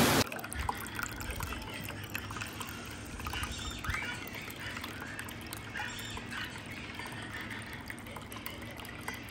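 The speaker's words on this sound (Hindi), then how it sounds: "कितनी तेज बारिश" Heavy rain in a residential street, with a steady wash of downpour and scattered drips and splashes of water close by, faint and continuous throughout.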